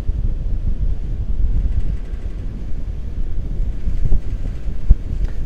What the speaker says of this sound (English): for a ferry ride on the Puget Sound.